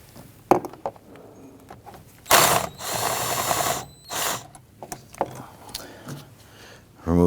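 A hand ratchet backs out 10mm bolts on the air filter box of a 2011-2015 Kia Sorento, heard as several bursts of quick close clicking separated by pauses and small metallic knocks.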